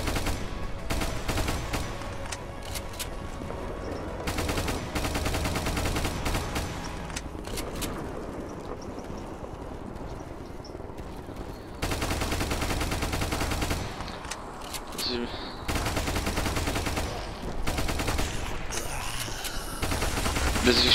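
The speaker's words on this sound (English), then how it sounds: "they made this gun in this mode better than in the normal sandbox, because now it can go full auto" Full-auto gunfire from a gun in the video game Ultimate Epic Battle Simulator, loud dense bursts that run almost continuously, with a short lull before the firing picks up again.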